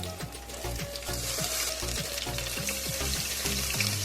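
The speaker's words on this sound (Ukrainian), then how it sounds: "Викладаємо ложкою на розігріту сковорідку та смажимо до золотистої скоринки з обох боків" Potato pancake batter sizzles and crackles steadily in a hot pan, with rhythmic scraping and tapping of a spoon close by.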